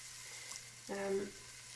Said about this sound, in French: Et on va faire revenir nos oignons